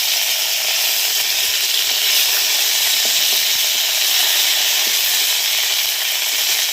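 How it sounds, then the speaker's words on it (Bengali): Ginger paste and cumin paste frying in hot oil for a fish and eggplant curry, a loud, continuous close sizzle with faint crackles and a spoon stirring now and then, no voices. "দেব একটু আদা বাটা তেলে, দেব জিরে বাটা, কাঁচা জিরে"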